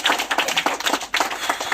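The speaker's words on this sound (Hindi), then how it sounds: "इनके लिए ताली बजाओ जोरदार।" A group of children claps loudly and rapidly for a classmate, a dense, continuous patter of hand claps close by with no voices over it.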